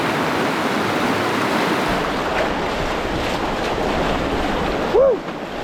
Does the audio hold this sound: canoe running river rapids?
yes